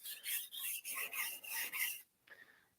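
A hard stainless Corin inox petty knife being sharpened on a stone, about seven rhythmic rasping strokes in quick succession, fairly close and quiet, followed by a brief pause and one shorter stroke.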